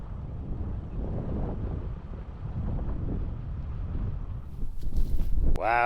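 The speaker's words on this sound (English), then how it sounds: "Wow, it's windy." Wind buffets the microphone in a low, steady rumble near a bay and boat launch in a county park, gusting stronger near the end, with a brief high squeal at the close.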